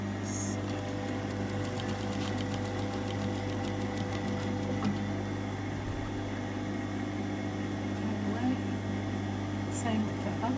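A sewing machine stitches across a knit back yoke on a tunic, giving a steady, continuous motor hum with rapid needle clatter that holds close and even throughout, with faint speech in the background.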